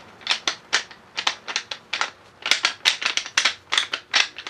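Rapid clattering bursts of deer-rattling antler knobs knocking and grinding together, a dense irregular rattle of sharp clicks in quick clusters, close and fairly loud.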